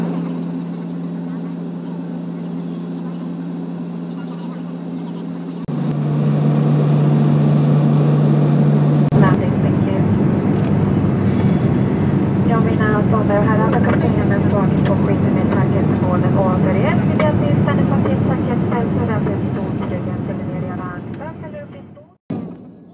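Steady engine drone and rushing cabin noise inside a small passenger airplane in flight, loud and continuous, with a brief tonal hum shift early on and people talking faintly under the roar.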